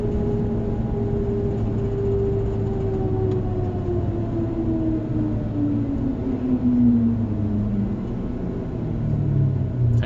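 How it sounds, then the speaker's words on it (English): A Ford pickup truck towing a trailer with a Reese Goosebox hitch slows on its exhaust brake, giving a steady low droning rumble with a tone that falls gradually as the truck loses speed, heard from inside the cab. "what you're hearing right now is actually the exhaust brake"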